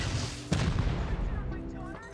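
Satchel charge going off in the survival game Rust: a single sharp, heavy blast with a rumbling tail amid ongoing low battle noise and distant crackle.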